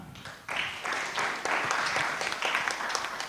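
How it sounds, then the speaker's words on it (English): An audience applauds a presenter at a live-streamed event, steady dense clapping starting abruptly after a brief quiet moment and continuing evenly at moderate volume. "Let us give her a good clap."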